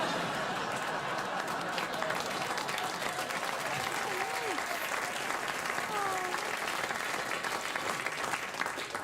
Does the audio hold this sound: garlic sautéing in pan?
no